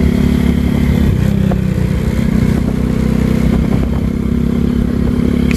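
A motorcycle engine runs steadily and loud at close range while riding to town, a constant low droning rumble with faint clatter and scraping underneath, no talking heard.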